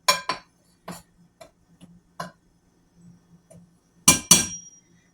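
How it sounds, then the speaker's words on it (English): A spoon clinks against a mixing bowl while coffee cake batter of flour and baking soda is stirred by hand, giving sparse, irregular sharp taps, a few close together and louder near the end, with no talking. "It says to whisk it, but I don't even have a whisk. So I'm doing it by hand with my spoon."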